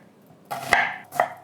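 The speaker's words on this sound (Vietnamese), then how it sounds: "Một củ hành tây nhỏ khoảng 150g, cũng cắt nhỏ vừa ăn." A small onion, about 150 g, being cut into bite-size pieces with a knife on a board while making Kung Pao chicken, giving two close, sharp chops.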